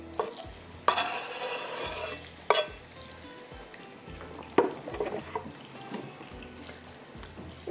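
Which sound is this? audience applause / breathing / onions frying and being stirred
onions frying and being stirred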